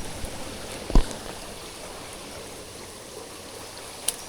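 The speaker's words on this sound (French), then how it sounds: "Oh la petite cascade et tout là." A small waterfall on a wild river makes a continuous rushing wash of water, steady throughout, with a couple of brief knocks standing out.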